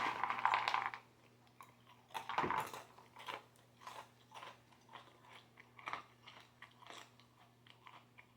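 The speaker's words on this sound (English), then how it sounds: "A lot of chewing." Crunchy dry wasabi peas are chewed in a steady series of close, crisp bites and crunches, loudest at the start and again after a pause, then softer repeated chomping with a faint constant hum beneath.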